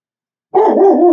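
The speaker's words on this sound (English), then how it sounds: "Sorry about the dogs." Dogs bark loudly and close by, a single sustained bark bursting out suddenly after silence.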